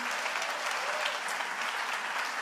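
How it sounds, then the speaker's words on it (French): Audience applause fills a church service, a steady dense wash of many hands clapping at once, moderately loud and continuous throughout with no talking over it. "est-ce qu'on peut leur donner de l'amour, les applaudir?"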